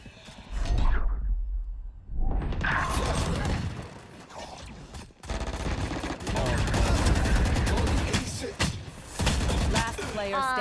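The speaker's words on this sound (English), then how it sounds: "I was so slow getting shot from two sides" Rapid gunfire crackles in bursts during a Valorant round, loud and close, with quieter gaps and mechanical clicks between, and a player talking over parts of it.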